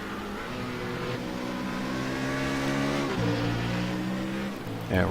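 A BMW race car drives on a circuit during an endurance race, its engine a steady loud drone that holds pitch, then drops as it shifts down near the end, with another car rising in briefly at the close.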